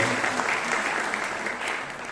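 Applause at the closing ceremony of the FICAM festival, honouring backstage technicians and administration staff; dense, steady clapping from a large hall audience, moderately loud and continuous throughout.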